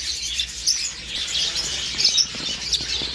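Red-rumped parrots and lovebirds in a pet shop chirp in quick, high, scattered tweets over a low background hum, moderately close and without talk.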